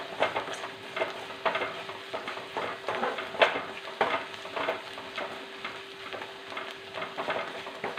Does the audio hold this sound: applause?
no